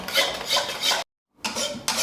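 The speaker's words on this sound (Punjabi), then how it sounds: "ਕੜਾਹੀ ਨੂੰ ਨੀਚੇ ਉਤਾਰ ਕੇ ਆਪਾਂ ਇਹਨੂੰ ਲਗਾਤਾਰ ਹਿਲਾਉਂਦੇ ਰਹਾਂਗੇ" Besan being stirred in a kadhai off the heat, with close scraping strokes of a spoon against the metal pan, broken by a short silent gap before the stirring resumes.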